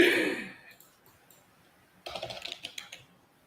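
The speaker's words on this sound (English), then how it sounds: "all I hear is you type so fast" Fast typing on a computer keyboard comes in as a quick flurry of clicks after a loud breathy sigh, close and fairly soft.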